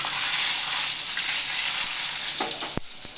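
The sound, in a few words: tempering spices frying: mustard, cumin, urad and chana dal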